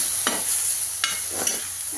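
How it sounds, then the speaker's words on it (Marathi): Curd and chilli mixture stirred in a hot pan: a continuous soft sizzle with three or four distinct scraping strokes of a spoon against the pan, close and alone. "बघा, आपण दही टाकून घेतलेलं आहे। बघा, असं हलवून घेऊया।"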